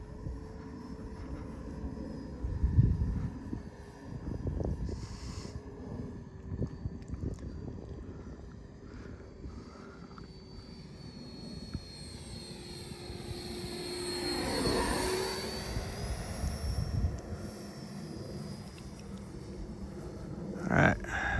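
F18c Legacy Hornet 90mm RC jet flying slow with gear down, a steady ducted-fan whine that sweeps up as it passes close and fades, with people talking at times.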